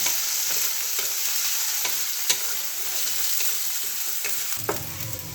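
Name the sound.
frying whole coriander seeds in pan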